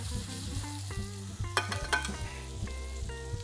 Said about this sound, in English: We got a perfect sear.